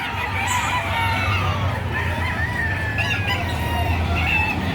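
Many chickens cluck and crow at once in a dense, noisy crowd, with roosters calling over a constant low din of a busy livestock auction market in Padre Garcia, Batangas, Philippines.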